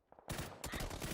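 A short, loud burst of rapid gunfire from the battle-royale game PUBG on console starts abruptly after a brief quiet moment and rattles on to the end.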